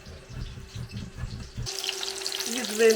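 Pork chops frying in a pan, a steady close sizzle that starts partway through, following a stretch of low kitchen clatter.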